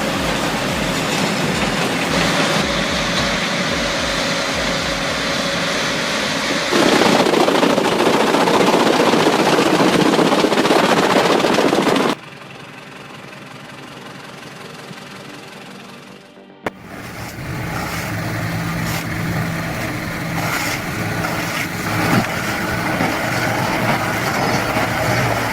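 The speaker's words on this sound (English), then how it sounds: "With dual intake rollers and a power-fed rotor, it turns forest chaos into fine uniform chips in seconds." A Willibald wood chipper with dual intake rollers and a power-fed rotor shreds tree crowns into chips, a loud continuous grinding roar with rattling bursts that shifts in intensity, drops briefly, then resumes at full force.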